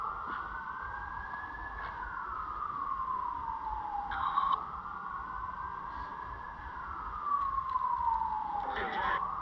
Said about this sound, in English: Those sirens are getting closer.